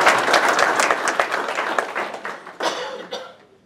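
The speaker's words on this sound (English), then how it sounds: "Please give her a round of applause." An audience claps in sustained applause that gradually thins and fades out toward the end.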